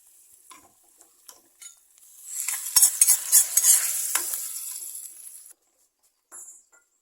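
Mustard seed tempering is poured into a roasted-coconut drumstick-leaf curry. A few light clinks come first, then a loud sizzling burst swells for about three seconds before cutting off, followed by a brief clatter.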